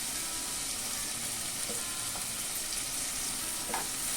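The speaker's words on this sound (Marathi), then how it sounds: "कांदा कोमवून घेऊया." Chopped onion and turmeric sizzle in a hot pan, a steady close hiss of frying with faint occasional stirring scrapes.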